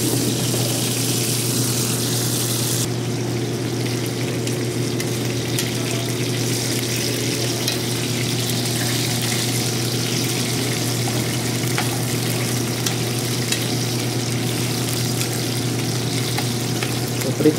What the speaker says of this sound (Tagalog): Prito-prito muna natin yung patatas natin.